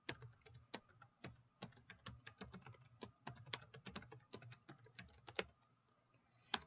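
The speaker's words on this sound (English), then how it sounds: "Now here we're going to type in our commandlet again." Typing on a computer keyboard, a quiet, irregular run of close key clicks and taps with short pauses, no voices.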